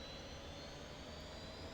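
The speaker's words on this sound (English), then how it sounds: "spool those engines up" F-86 Sabre jet engine spooling up in the DCS World flight simulator, a steady, loud roar with a high whine running throughout, no voices.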